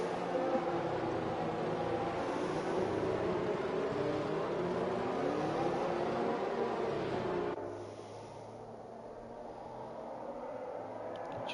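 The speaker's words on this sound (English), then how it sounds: "Just hear that safety car putting away in the distance." Safety car engine in a racing video game at the United States GP, a steady broadband engine drone that drops and fades into the distance after about seven and a half seconds, heard without talk.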